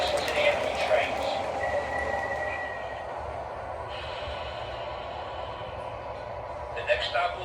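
A New York IRT Flushing line subway train hums and rumbles at a station, with a brief high tone from the car and a low steady drone, heard from inside alongside a hiss of air.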